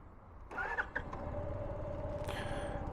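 An Apachi Joy 125 scooter engine starts with a short starter whirr, then settles into a quiet, steady idle, heard close up.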